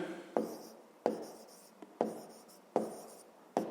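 Pen strokes scratching on paper while writing out a 5th-grade maths exercise, arriving as five or six short, sharp bursts that each fade quickly, close and fairly quiet with no talk.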